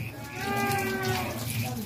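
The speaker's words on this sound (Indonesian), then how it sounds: "Kambingnya yang bengok-bengok, guys." A goat bleats loudly and close in one long, wavering call, with faint voices and background noise beneath it.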